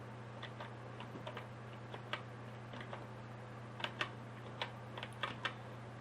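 A date being typed on a computer keyboard into a Microsoft Excel sheet: sparse, light key clicks in short bursts, faint and close, over a low steady hum with no talking.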